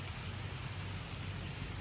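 Steady rain patters on a car while driving around in Brownfield, a soft even hiss with a low rumble underneath and no talking.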